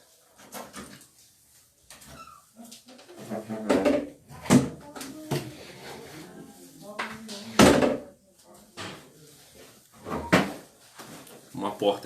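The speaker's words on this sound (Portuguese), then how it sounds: "Uma porta aqui fazendo barulho." A door in a church livestream opening and making noise, several sharp knocks and creaks scattered among a man's ongoing speech, fairly close.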